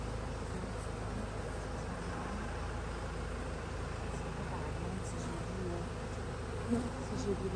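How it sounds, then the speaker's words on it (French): Honeybees swarm around an open beehive during an autumn hive inspection and honey harvest, a dense, steady buzzing that fills the air close by, with a few louder passes near the end. "Il y a tellement d'abeilles"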